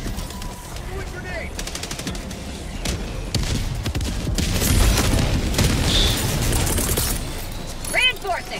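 A destroyed bot asset explodes in Helldivers 2 amid an ongoing firefight, with booms and machine-gun fire rumbling over several seconds under a game voice announcing events.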